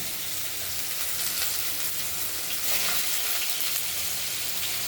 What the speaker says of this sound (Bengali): ধীরে ধীরে তরকারিগুলো সব দিয়ে দেবো কড়াইতে